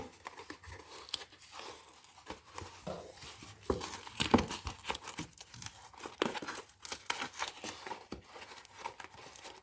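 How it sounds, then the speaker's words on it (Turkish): A shipping package of books is torn and crinkled by hand at close range: intermittent ripping, crumpling and crackling bursts, fairly quiet, with no talking. "Ben bir sonraki paketimi de açıyorum"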